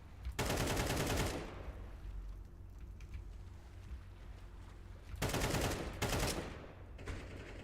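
Counter-Strike 2 gunfire in bursts: a dense rattling volley near the start, then two more short loud bursts later, with quieter game ambience between.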